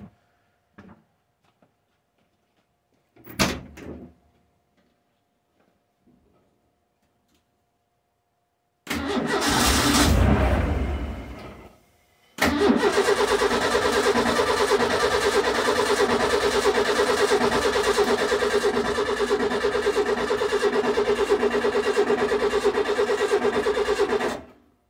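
A truck with no power reaching its injectors is cranked repeatedly without catching: a short burst of cranking, then a longer loud stretch of starter whirring and engine turning over, close and steady, with no voices.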